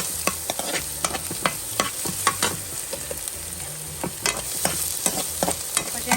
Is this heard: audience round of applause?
no